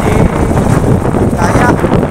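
Strong wind buffets the microphone on open water, a steady loud roar with broadband rushing and wave wash mixed in, continuous throughout with no clear breaks.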